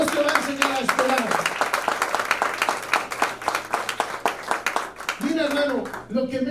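A church congregation claps together as an offering of applause, a dense, steady patter of many hands filling the space for several seconds, with a preacher's voice speaking over the start and end.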